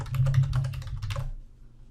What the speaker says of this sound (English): Type in the text that you want to appear in the header.